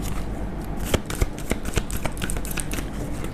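A tarot deck being shuffled by hand, close rapid riffling and flicking of cards with a few sharper snaps, a continuous busy rustle with no speech.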